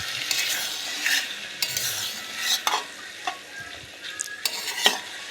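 Potato and fried prawns stirred in a pan, with a spatula scraping and clinking in repeated strokes over a soft, continuous sizzle, close and clear.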